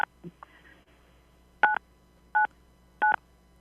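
Telephone keypad DTMF tones during a call: three short, clear two-tone beeps spaced about evenly apart, preceded by a few faint blips and quiet line noise, with no one talking.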